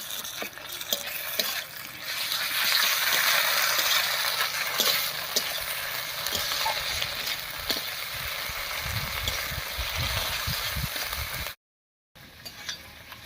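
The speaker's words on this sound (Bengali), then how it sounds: "এবারে পেঁয়াজের সঙ্গে খুব ভালো করে কষিয়ে নেব" Onions fry with ginger garlic paste in a pan for chicken curry, a dense close sizzle with repeated scraping stirs and light clinks, then a brief cut to silence before the frying returns.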